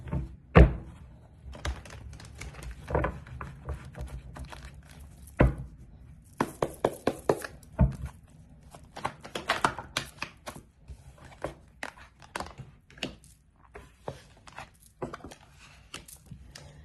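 Tarot cards being shuffled by hand, with soft riffling and sliding bursts broken up by sharp taps and thumps as the deck is squared against a surface, irregular and close, no talk.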